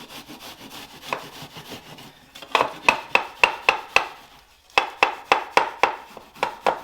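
Rhythmic back-and-forth strokes of a Gouin hand saw biting into wood flush against a wall, close and fairly loud, with a brief pause mid-way before the sawing resumes.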